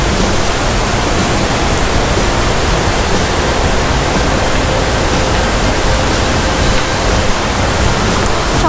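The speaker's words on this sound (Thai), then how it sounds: "มายืนดูน้ำตก" A waterfall in Mae Kampong, Thailand, roars in a dense, steady rush of falling water, loud and unbroken from start to finish.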